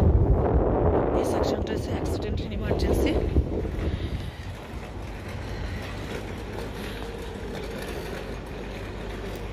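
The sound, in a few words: wind blowing outdoors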